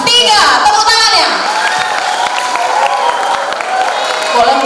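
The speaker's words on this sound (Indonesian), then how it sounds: "Tepuk tangannya." A school hall audience claps and cheers for student council candidates, a loud continuous wave of applause with voices mixed in and an announcer speaking at the start.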